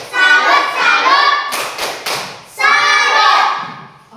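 Children in a classroom chant and clap in unison, with loud sing-song voices broken by a few sharp group claps in the middle, close and full-sounding.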